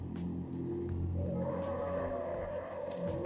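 Car engine and tires from the CarX Street driving game, a steady revving hum with faint squeals, played quietly and heard alone.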